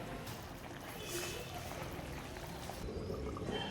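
Water poured generously into a pot of meat, bottle gourd and potatoes during home curry cooking, a steady close splashing pour with a dip partway through.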